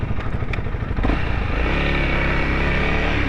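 A 2021 Honda CRF300L motorcycle engine runs while riding, a loud, steady, dense rumble with a firmer, fuller pull after the first second and no talk over it.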